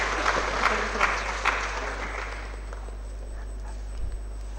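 An audience at an MBBS orientation day in Kalaburagi claps, a moderate burst of applause that thins and fades over a few seconds above a steady low hum.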